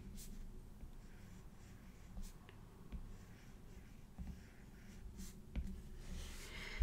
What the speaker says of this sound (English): And I'm just going to write Millie